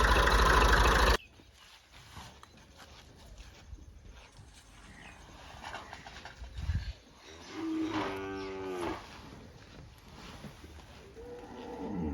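A deep, drawn-out moo from a water buffalo in a shed at feeding time rises partway through, moderately loud over rustling and low background noise.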